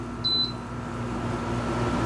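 A VEVOR tower fan running at medium speed gives a steady, even airy whoosh with a low hum, broken once near the start by a short electronic beep.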